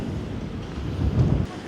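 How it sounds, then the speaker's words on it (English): Strong gusty wind buffeting the microphone on a high open picnic area near Cologne Cathedral, a heavy low rumble that swells and roars throughout the short stretch with no talk. "It's so windy."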